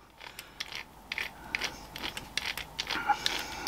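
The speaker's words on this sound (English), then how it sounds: "So you want to wind this all the way in, so you know all your jaws are going to meet in the middle." A lathe chuck key winds the chuck jaws in toward the center during a chuck service, giving close, faint, irregular ratcheting clicks and metallic scrapes with no talk.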